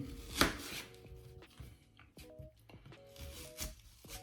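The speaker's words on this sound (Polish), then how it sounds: "Cebulę kroimy w kostkę." A knife dicing onion on a cutting board, a series of close, sharp chops with one loud strike early on, followed by irregular taps.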